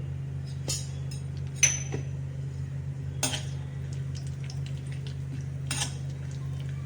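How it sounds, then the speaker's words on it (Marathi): Dry fruits going into warm ghee in a kadhai: sharp metallic clinks and taps of a spoon against the pan, a few scattered strikes over a low steady hum, close and fairly quiet with no talk. "आता त्यात तूप थोडं गरम झालं ड्रायफ्रूट टाकून घेऊ"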